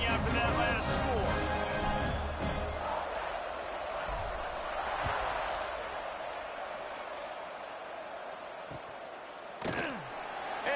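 A football stadium crowd buzzes with a steady roar after a score, loud and continuous beneath a commentator's talk, with occasional sharp bangs.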